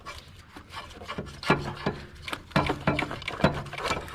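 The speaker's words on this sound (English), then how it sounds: "It's time to remove the alternator." An alternator is worked loose and pulled from a 1997 Lexus ES300 engine bay, giving close scraping, rubbing and knocking sounds with several sharp metallic clunks as it comes free.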